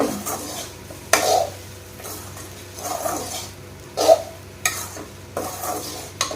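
Okra sautéing in oil for a crispy South Indian fry, with a soft sizzle running underneath while a spoon scrapes and clatters against the pan in repeated stirring strokes about every second, close and fairly loud.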